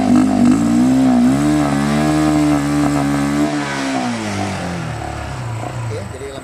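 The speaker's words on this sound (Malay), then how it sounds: "yang ni hampa kena ref lebih kuat lagi nah" A SYM VF3i motorcycle engine revs hard and holds a high steady tone during throttle body cleaning, then drops in pitch as the throttle eases, loud and close.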